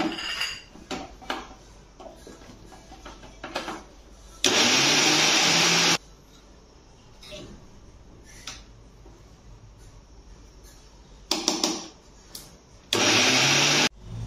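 A kitchen mixer grinds coconut, garlic and ginger into paste in two loud, steady bursts of whirring, each about a second and a half long, separated by clinks of utensils and lid handling.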